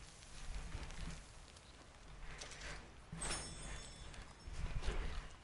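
Horse hooves clip-clopping in Red Dead, faint, irregular thuds mixed with rustling ambience and soft surges, no talk.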